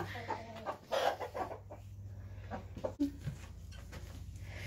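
Farm chickens cluck and murmur at close range in scattered bursts over a low steady hum, with a few louder squawks breaking through.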